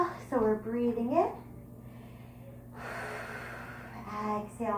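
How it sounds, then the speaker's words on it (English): Slow, deep yoga breaths, audible inhales and exhales, drawn in and pushed out through the nose and mouth, alternate with a guiding voice speaking over them in a quiet room. "So we're breathing in."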